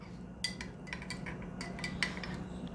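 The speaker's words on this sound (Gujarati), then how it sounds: "હવે આને આપણે હલાવી લેવાનું, બરાબર બધું સરસ મિક્સ કરી લેવાનું." Spoon clinking and scraping in a glass while stirring a sauff (fennel) premix drink with lemon juice, several light metallic taps spread irregularly over a low steady background.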